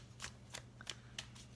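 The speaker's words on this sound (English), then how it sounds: "as I'm shuffling these cards" Tarot cards are shuffled in quick, crisp riffling bursts, about five short rustles spread evenly across the moment, close and fairly quiet over a low steady hum, with no talking.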